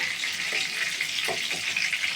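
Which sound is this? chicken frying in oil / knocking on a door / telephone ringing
chicken frying in oil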